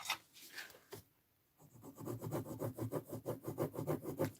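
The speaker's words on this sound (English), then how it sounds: "You want to line it up in your trimmer, and you just want to cut that through." A paper trimmer blade slides through cardstock in a quick series of close, rhythmic scraping strokes after a short pause, fairly quiet and with no voices.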